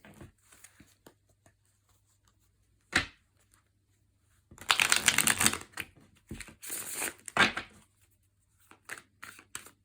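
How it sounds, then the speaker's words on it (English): Cards being shuffled in a few brisk riffling bursts, close and crisp, separated by quiet pauses and scattered small taps. "One more good shuffle."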